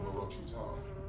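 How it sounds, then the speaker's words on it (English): A bee buzzing in Secret World Legends, a short, steady insect drone held close and fairly faint, with no other sounds over it. "The bee is still here."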